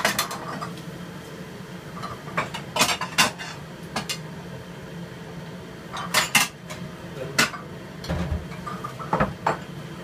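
Diced spicy chicken is scooped onto a dish: repeated metallic clanks and scrapes of a utensil against a pan and plate come in irregular bursts over a low kitchen hum.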